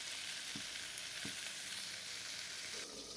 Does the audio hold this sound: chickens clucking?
no